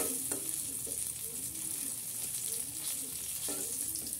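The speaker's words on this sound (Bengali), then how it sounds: "আর এখানে মাছ ভাজছি" Surma fish fry in a pan with a continuous soft sizzle and crackle, broken by a few quiet scrapes of stirring, heard close and fairly low in level with no talking.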